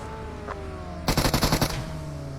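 A Beryl rifle fires a rapid automatic burst of about eight shots in a video game, loud and close, after a quiet stretch with a faint earlier pop.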